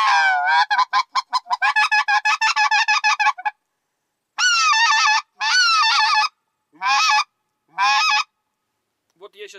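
A goose call is blown in a series of honking notes, first in quick rapid bursts and then in longer separated honks, loud and close, with no other sounds.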